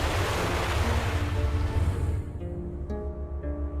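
Ocean waves and surf roar loudly and continuously with wind noise on the microphone, then ease off slightly while a faint tonal hum runs underneath.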